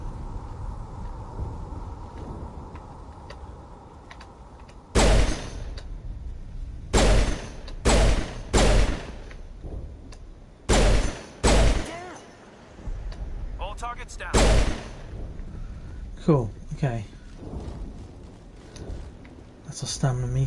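Sharp pistol shots from Mass Effect Legendary Edition ring out in short bursts of one to three, spaced across a stretch of game ambience, loud and close, with a faint voice and other effects between volleys.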